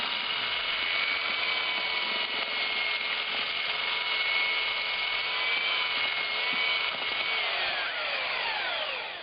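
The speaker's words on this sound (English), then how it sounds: "This is just a normal SDS drill with a whisk attached to it." An SDS drill fitted with a whisk paddle churns a batch of earth plaster, giving a steady, loud motor whine with a faint falling tone near the end as it slows, with no talk over it.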